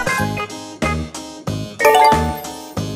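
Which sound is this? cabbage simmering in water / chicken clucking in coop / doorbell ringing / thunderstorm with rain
doorbell ringing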